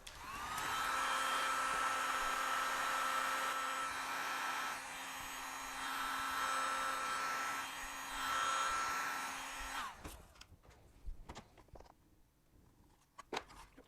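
A heat gun blows steadily for about ten seconds, softening the tar that holds an amber lens in a Nissan 300ZX, then cuts off, followed by faint clicks and taps of handling the part.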